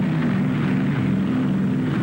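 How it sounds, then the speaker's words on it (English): Fighter planes flying back toward an aircraft carrier during World War II, a steady, loud, droning engine roar that holds evenly throughout with no break. "fighter planes return to the carrier to refuel, rearm, and stand by to repel any new attack from the sky"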